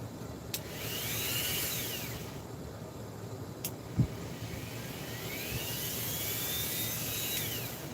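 A grinder runs at reduced speed, a steady broadband hiss and whirr with rising and falling whine as the motor revs shift, plus a couple of brief knocks.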